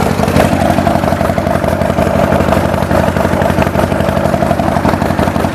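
A motorcycle engine running steadily up close, a loud, even mechanical chug with rattling clatter and no revving surges, continuous from start to finish with no voices.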